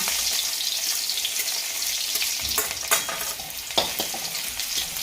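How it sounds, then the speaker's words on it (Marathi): Steady, loud sizzling of greens frying in hot oil in a wok, with occasional stirring scrapes and crackles throughout. "चला आता पटकन मी ही भाजी टाकून देणार आहे कढईमध्ये मस्तपैकी परतून घेऊ"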